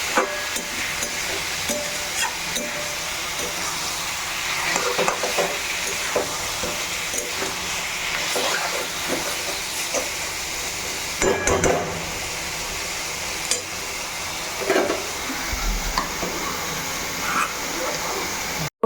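Chicken frying in a pan, stirred now and then, with a steady sizzle and hiss and irregular scraping knocks of the spoon, fairly close, with brief voices in the background.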